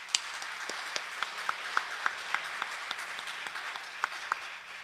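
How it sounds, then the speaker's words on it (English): A church congregation applauds in a thin, scattered way, with individual sharp claps standing out at a fairly regular pace over a soft wash of lighter clapping. "If you would, give them a round of applause."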